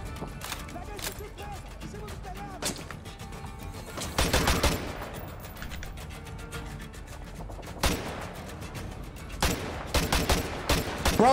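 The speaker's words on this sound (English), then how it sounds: "Bro, I'm literally shooting him!" Gunfire in Modern Warfare 2 Remastered comes as sharp close bursts and rattling volleys scattered through a tense game soundscape, with a player talking at times.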